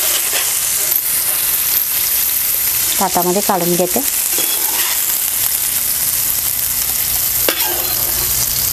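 Spicy masala-coated fish fries in hot oil with a steady, loud sizzle, and a spatula scrapes and stirs it in a brief burst of clatter. Someone speaks briefly over the frying.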